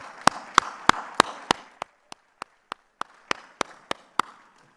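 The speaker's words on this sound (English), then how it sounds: "please give them a big clap" Conference audience applauding after speakers are thanked, a run of about fifteen sharp, evenly spaced claps standing out over a softer wash of scattered clapping that thins toward the end.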